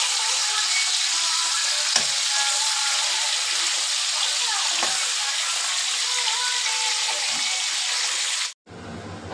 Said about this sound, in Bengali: প্রতিটা মাছকে আমি ভেজে নেব।